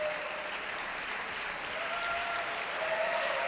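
Steady applause from a squash crowd at a women's world championship semi-final after a long four-game match, sustained and even throughout, with a faint tonal whistle or hum riding above it.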